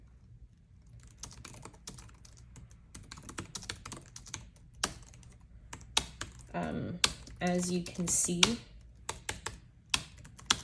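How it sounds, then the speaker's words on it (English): Typing on a Freewrite Traveler portable keyboard, rapid irregular key clicks close up, continuing steadily under someone talking partway through. "I'm typing faster than I can talk."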